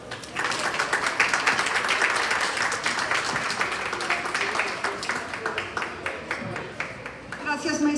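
A conference audience at a cultural panel discussion breaks into sustained, dense applause lasting several seconds, with a brief murmur of voices near the end as the clapping tapers.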